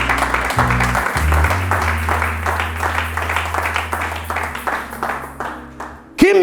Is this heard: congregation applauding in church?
yes